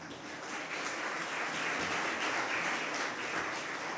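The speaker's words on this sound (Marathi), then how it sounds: "थोडं लहान लोकांसाठी टाळ्या वाजूयात" An audience claps steadily for about four seconds at a school event in Solapur district, Maharashtra, with the applause continuous, moderately loud and dense and no voices over it.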